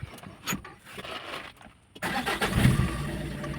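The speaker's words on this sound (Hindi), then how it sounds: "गाड़ी को करते हैं स्टार्ट।" Quiet clicks and a starter crank, then a Tata Intra V30 van's diesel engine, with its check engine light on, catches and settles into a rough, steady idle.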